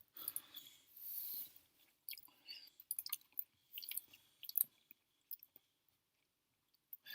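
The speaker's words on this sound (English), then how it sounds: "if you just heard me chewing" Faint, intermittent chewing of food by a person, soft wet mouth sounds and small crunches coming in irregular bursts close to the microphone, with quiet gaps between them.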